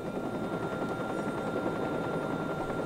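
A helicopter in the video game Watch Dogs thunders steadily overhead, its loud, unbroken rotor and engine roar filling the whole stretch with no pauses.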